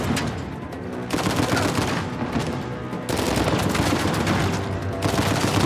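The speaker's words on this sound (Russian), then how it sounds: "Кто стреляет?" Video game gunfire from Uncharted 4 rattles loud and continuous, with rapid automatic bursts and heavy shots packed together and only brief dips between volleys.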